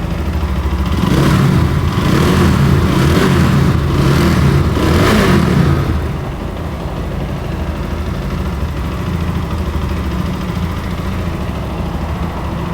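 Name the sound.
GPX Demon GR165 RR motorcycle engine running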